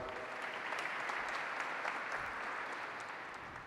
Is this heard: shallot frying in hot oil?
no